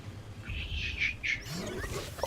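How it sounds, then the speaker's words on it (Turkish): Birds in the Evolve video game let out a few thin, high chirping calls over a low ambient rumble, with a rustling flutter near the end. "O kuşlar da çok sıkıntı da."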